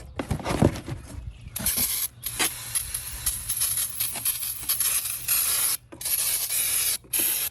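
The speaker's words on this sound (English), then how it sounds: "you gotta brake clean these off, or it'll affect your stopping ability later" Brake cleaner sprayed onto new brake rotors of a 1998 Lexus LS400, a series of hissing aerosol bursts broken by short pauses, close and fairly loud after some rubbing handling noise at the start.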